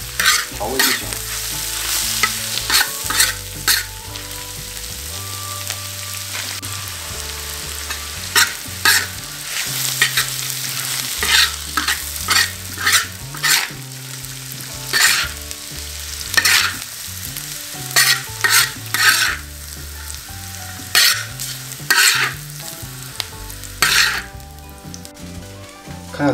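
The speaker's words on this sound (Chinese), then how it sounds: "青辣椒炒一下调味就行了" Green chili peppers and garlic slices stir-fry in a wok, a continuous sizzle broken by repeated sharp scraping strokes of a spatula in an irregular rhythm.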